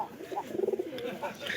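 A pigeon gives a short rolling coo, a quick burst of soft throaty pulses near the middle, close by, with faint human talk around it.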